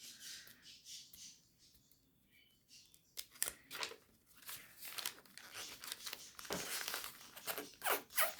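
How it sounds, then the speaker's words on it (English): A thin Santa sticker crinkles and tears as it is peeled off a journal page, producing close, faint, irregular papery rustles and crackles that grow busier partway through. "now that I'm crinkling Santa"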